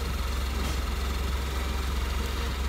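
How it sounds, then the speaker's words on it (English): A Hyundai Venue's engine idles after a remote start through the Bluelink app, a steady low rumble with a faint even pulse, close and constant with no revving. "we are able to start the car remotely"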